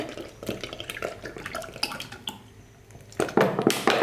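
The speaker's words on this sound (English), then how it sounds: "we're going to pour the hot cream over the eggs" Thick farm double cream, heated, being poured from a bottle over eggs, making a close, soft, uneven gurgling and splashing pour that ends with a louder final burst.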